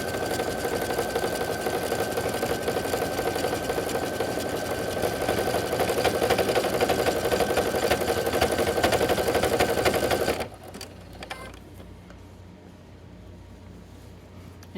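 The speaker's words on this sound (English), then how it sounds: "between me and the sewing machine" A sewing machine stitching fabric for shorts runs steadily at close range, its rapid mechanical stitching humming for about ten seconds before stopping abruptly, leaving quiet room noise.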